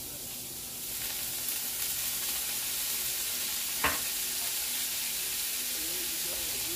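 Yakisoba sizzles steadily in a pan as soy sauce goes in, a continuous hiss of frying with a brief sharper sputter partway through and faint stirring scrapes.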